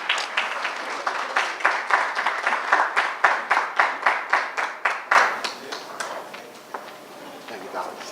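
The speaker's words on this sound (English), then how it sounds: "give him a round of applause." Audience at a Martin Luther King Day scholarship breakfast applauds the Montclair mayor, distinct rhythmic claps rising into a dense round, then tapering off as it fades near the end.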